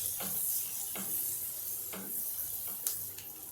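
Finely chopped garlic frying in a pan, a soft continuous sizzle with a few light stirring clicks of a spoon against the pan.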